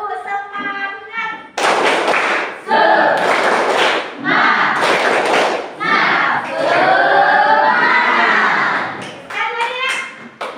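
A class of students performs a rhythmic clapping chant in a classroom, bursts of group clapping alternating with chanted voices in a patterned beat, loud and close, with a teacher's voice briefly at the start.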